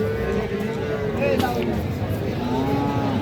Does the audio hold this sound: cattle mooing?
yes